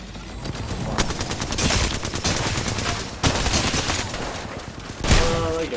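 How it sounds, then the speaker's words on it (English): Gunfire in a video game, a dense crackling fusillade of rapid shots running continuously throughout, with sharper individual cracks standing out near the start, middle and end. "I'm taking shots."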